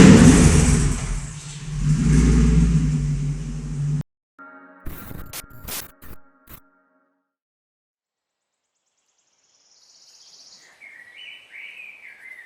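A 1980 Bianco Fúria V8 car engine revs loudly and nearby for a few seconds, then cuts to sharp clicks and silence, with faint bird chirps at the end.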